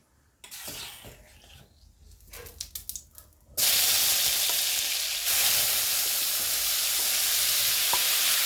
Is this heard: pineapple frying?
yes